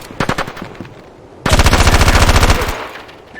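A short burst of video game gunfire from SOCOM U.S. Navy SEALs: Fireteam Bravo 3 gives way to a long, loud stream of rapid automatic fire, sharp and close, with no voices.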